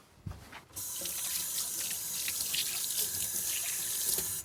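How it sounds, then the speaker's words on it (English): Running water from a kitchen tap filling and splashing into the sink during a quick wash-up while cooking a standing rib roast with rosemary and garlic: a brief clatter, then a steady close hiss of flowing water, no voices. "All right, quick little wash up."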